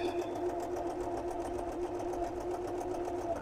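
A sewing machine stitches a zigzag buttonhole on a black safari shirt, its needle pounding in a fast, even mechanical rhythm that stays quiet and steady throughout.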